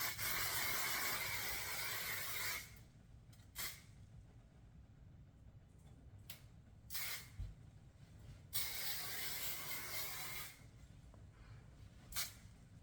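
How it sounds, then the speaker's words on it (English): Long hissing bursts of flexible-hold hairspray from an aerosol can onto hair, two extended sprays with short puffs between them, close and steady. "So it's time to spray it again."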